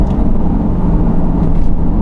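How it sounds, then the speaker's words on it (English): A Porsche GT3 fitted with an IPE decat exhaust drives along, its engine a loud, steady droning roar that holds at the same level for a couple of seconds with no voices over it. "driving this car, a GT3, a Porsche, with a Decat exhaust system from IPE"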